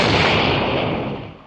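A mortar shell explosion in an action film: one loud, broad blast with a dense rumble that slowly decays over a second and a half, with no voices.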